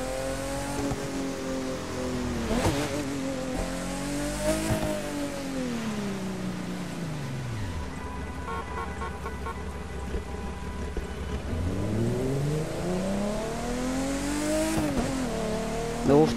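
Engine revving and racing in The Crew 2, a driving video game, with pitch sweeping up and down through gear changes, loud and continuous for the full stretch under background game music.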